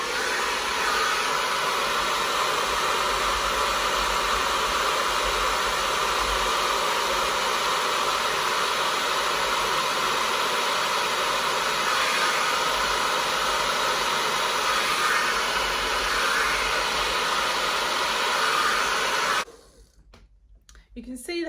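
A hair dryer with a diffuser attachment blows steadily for about twenty seconds while drying curly hair, a loud, constant whooshing hum that cuts off abruptly near the end, with faint talk.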